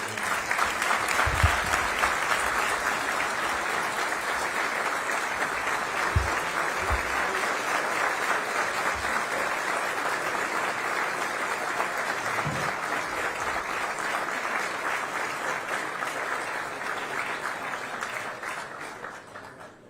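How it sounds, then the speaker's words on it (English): A room full of people at an insurance legislators' event applauds steadily for nearly twenty seconds, the clapping staying even before tapering off at the end. "Please, if we could just give one more round of applause for you."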